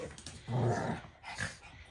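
Two dogs wrestle in a home, giving a close, throaty growl that swells and fades, then a shorter second growl, with no talk.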